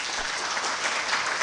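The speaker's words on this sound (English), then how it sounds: "Clap for her, please" An audience at a scholarship anniversary celebration claps steadily for a guest, a brief dense wash of applause at even loudness throughout.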